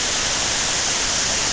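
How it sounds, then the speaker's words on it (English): Rushing water pours steadily at the Buracão waterfall in Chapada Diamantina, Brazil, a loud, dense roar heard up close with no voices. "It's the Big Hall Waterfall."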